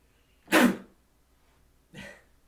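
Two sneezes: a sharp, fairly loud burst followed a second and a half later by a softer second one, with quiet between.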